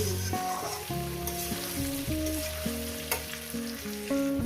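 Rohu fish pieces frying in hot oil in a pan for a light home-style fish curry, a steady close sizzle with occasional stirring under louder tuneful background music.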